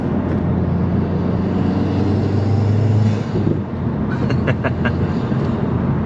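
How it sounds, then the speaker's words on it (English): A Mazdaspeed 3 with a turbocharged engine and six-speed manual gearbox hums steadily in the cabin, its drone shifting midway before faint whistling turbo tones rise near the end. "Gotta love the turbo noises."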